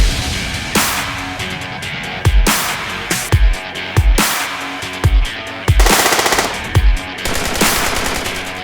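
Gunfire at an outdoor shooting range during a range day at a sportsman club, with repeated loud sharp shots, some single and some in quick clusters, ringing out close by.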